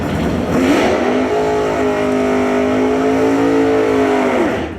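A 1968 Pontiac GTO drag car revs hard at the launch, a loud, close engine roar that holds and climbs steadily in pitch for several seconds.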